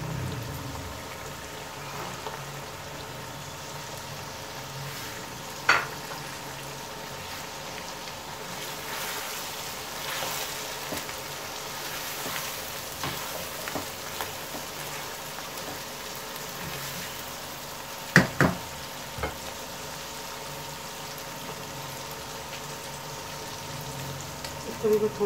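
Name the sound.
mutton keema with peas frying and stirring in pan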